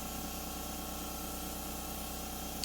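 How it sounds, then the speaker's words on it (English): A paint spray gun on a horizontal setting sprays purple chalk paint across furniture drawer fronts, a steady, even hiss held close throughout with no break. "back to the horizontal setting on my gun and spray side to side the faces of the drawers"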